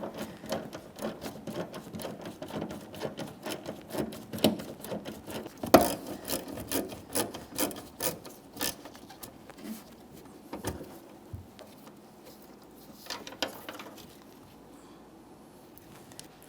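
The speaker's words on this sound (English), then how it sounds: "I'm going to gently pull the rear bumper cover out and away just enough that I can gain access to my two bolts." A rear bumper cover on a 2014-2019 Toyota Corolla pulled out and away from the fender, giving quiet plastic creaking and rubbing with dense little clicks that thin out toward the end.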